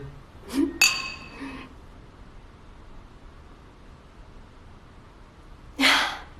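Glasses clinking in a toast, a couple of bright chinks close together at the start and another clink a few seconds later, with a quiet room between them.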